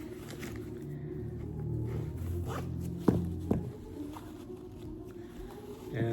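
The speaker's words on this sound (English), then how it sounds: "and then you just zip it back up" A zipper on the boot of a Spider-Man costume suit is drawn up in short tugs, with two sharp zip strokes standing out over soft handling noise and a faint background hum.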